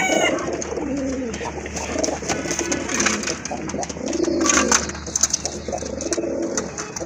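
Male pigeon cooing near a female among a collection of fancy pigeons, repeated low throaty coos in several rounds, with other birds and faint voices in the background.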